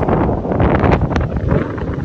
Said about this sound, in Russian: здесь очень часто бывает сильный ветер